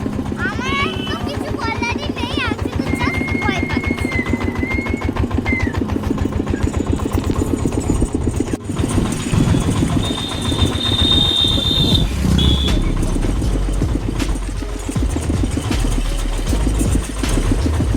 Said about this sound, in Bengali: আমরা আজকে একটু নতুনভাবে ইঞ্জিন ভ্যানে করে যাচ্ছি।